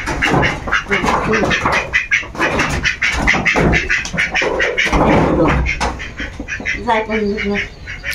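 Ducks and ducklings on a farm, Chinese ducks among them, give repeated nasal quacks and squawks close by, overlapping with a voice talking throughout.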